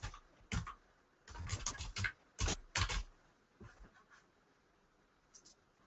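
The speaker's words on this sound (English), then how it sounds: "So I'll type in my email address in the chat box." Keys on a computer keyboard clatter in short uneven bursts while an email address is typed into a chat box, close and moderately loud, with quiet pauses between the runs.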